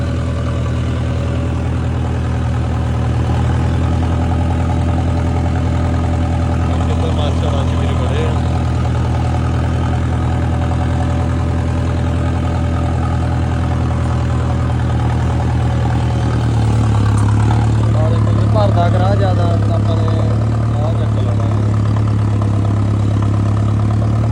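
A tractor engine idles and chugs steadily throughout during field levelling work, a low continuous rumble that grows slightly heavier toward the end.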